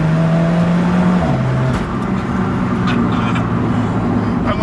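An Alfa Romeo 4C driven hard on the road, its engine note steady and loud throughout with a pitch shift partway through as it changes revs, heard from inside at close range.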